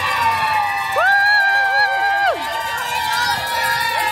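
Cheer squads shout and cheer for passing runners along the course of the Disney World Marathon, a lively crowd roar with music in the background and a few rising whoops, heard close by amid the race-day bustle.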